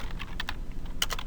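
Quick keystrokes on a computer keyboard spell out a short name for a range in an Excel spreadsheet, giving close, irregular clicks in a brief burst without any talk.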